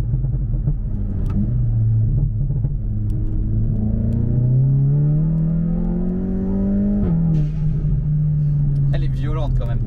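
A turbocharged Volkswagen Golf 7 GTI TCR Edition with stage 2 tuning revs up hard in fourth gear, its pitch climbing steadily for several seconds before dropping back, loud and close inside the cabin.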